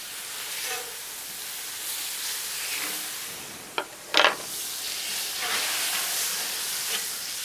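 A good chunk of butter melting on a hot Blackstone griddle, giving a steady broadband hiss and sizzle with a couple of brief sharp scraping clicks partway through.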